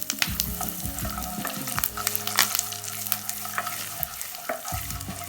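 Asafoetida being stirred into hot oil for tempering a tangy tomato pickle, with a steady close sizzle and repeated scraping strokes of a spoon against the pan, alone without talk.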